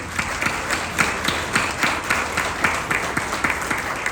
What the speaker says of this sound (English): So let's give them a big hand of applause.